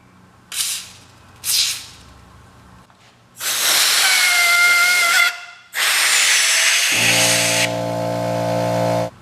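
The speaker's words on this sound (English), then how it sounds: "use that air compressor from the back end, and it just pretty much slid right on" Air compressor blasting air into a twist throttle grip on a Yamaha Raptor 700 handlebar, with two short puffs followed by two long, loud, steady hissing blasts and a lower mechanical hum near the end.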